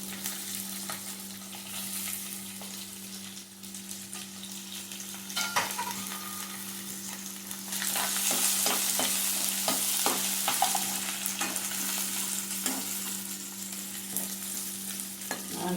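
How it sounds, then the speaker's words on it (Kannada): Four large chopped onions frying with curry leaves in oil for chilli chicken, a steady close sizzle with scattered scraping stirs that thicken and grow louder midway, no voices. "ಈರುಳ್ಳಿ ಹಾಕ್ತೀನಿ"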